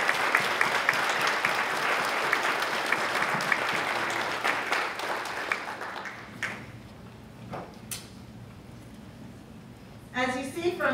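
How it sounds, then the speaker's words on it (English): An audience at a student leadership awards event claps for award recipients, a dense, sustained round of applause that thins into scattered claps after about six seconds, with a voice then speaking briefly near the end. "Everyone, please join me in a round of applause for these special individuals."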